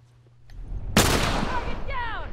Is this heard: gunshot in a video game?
yes